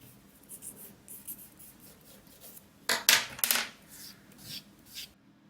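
Vine charcoal scratches across Master Start sketching paper while sketching a bunny rabbit, in quick dry rasping strokes with a louder burst of scribbling near the middle.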